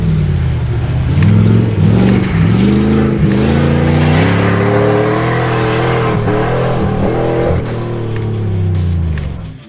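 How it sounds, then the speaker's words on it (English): A pickup truck roars around a junkyard racecourse, its engine revving hard and shifting pitch through corners in a continuous loud, close drone with brief gear changes. "the old man did really good in Next Gen's pickup truck on that run"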